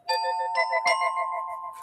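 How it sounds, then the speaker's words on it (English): A two-tone electronic doorbell chime rings out clearly, its sustained tones overlapping and fading slowly, close and moderately loud. "there's a ring at the doorbell"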